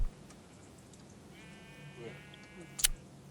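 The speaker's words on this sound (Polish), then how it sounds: "Owca, owca!" Sheep bleat in the Minecraft video game, a faint drawn-out bleat in the middle followed by a short sharp click near the end, low and quiet over background hiss.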